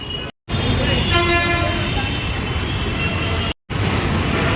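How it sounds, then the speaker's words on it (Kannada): A train rumbles past close by, its horn tooting loudly over the steady clatter of wheels, with two brief cut-outs in the sound. "ಟ್ರೈನ್ ಟ್ರೈನ್ ನೋಡಿ"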